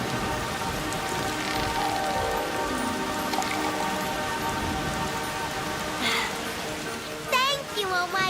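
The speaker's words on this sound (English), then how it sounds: "I will make it rain." Cartoon rain falling steadily as a continuous hiss of drops on surfaces, with a few brief sparkly magical effects near the end; no thunder.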